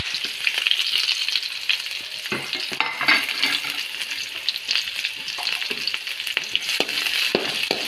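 Chopped onions with curry leaves fry in a pan of oil for a chicken curry, a steady close sizzle broken by occasional scrapes and stirs, with no voices.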